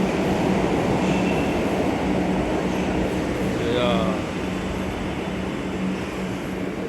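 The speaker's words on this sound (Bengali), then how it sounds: "আমাদের ট্রেনটা আবার বন্দরে ফিরে যাচ্ছে।" A metro train departs Noapara station, its steady, loud rolling rumble carrying throughout with a faint squeal midway, while people talk over it.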